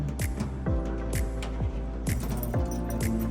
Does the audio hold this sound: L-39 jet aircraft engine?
no